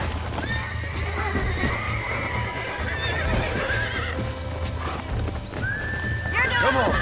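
A horse in Red Dead Redemption gallops with steady hoofbeats and lets out high, drawn-out neighs, while voices talk over the action.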